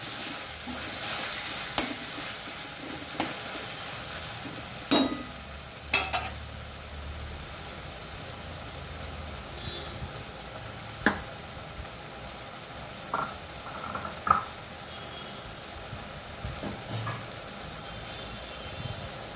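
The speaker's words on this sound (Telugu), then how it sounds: "టమాటా బాగా ఉడకాలి." Tomato rice cooking in a pan, a steady soft sizzle with occasional clinks and scrapes of stirring, faint and continuous, with little talk.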